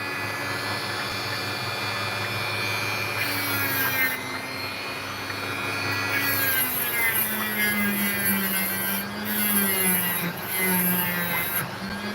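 A powered saw grinds through opal, giving a steady, loud whine with rising and falling pitch and short shrill bursts as the blade bites, close up and with no talk.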